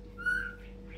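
A white-rumped shama (murai batu) gives a single brief, clear whistled note, quite faint over a steady low hum.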